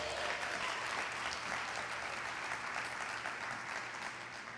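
A church congregation clapping loudly together during a service, a dense, sustained wash of applause that holds steady and fades slightly at the end.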